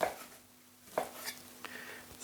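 Knife cutting through ingredients for Polish żurek sour rye soup on a board, a few separate close cuts and light kitchen clatter at a quiet level, no talking.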